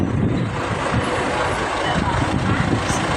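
A bus idles and moves along a Singapore street, its engine rumble steady and close under a continuous broad wash of traffic noise.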